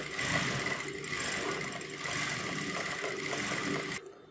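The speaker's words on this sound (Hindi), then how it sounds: "अब आपको यहाँ से मशीन को घुमा देना है और यहाँ से इस प्रकार से ऊपर की सिलाई कर देनी है।" A domestic sewing machine runs steadily while stitching a kanchali blouse, its motor hum continuous and fairly close for about four seconds before cutting off near the end.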